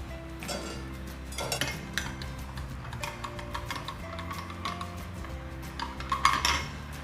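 A metal spoon scoops instant coffee into a glass, making light scraping and intermittent clinks against the rim, close and moderately quiet over a faint steady background hum, with a brighter clink near the end.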